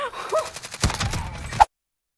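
Gunfire in the video game Call of Duty Warzone, a rapid burst of automatic shots close by with a few louder cracks, ending in a sharp final shot before abrupt silence.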